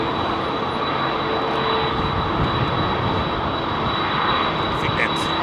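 A jet airliner with CF6 engines runs close at Heathrow, giving a loud, continuous roar with a steady high whine on top, while a voice talks over it.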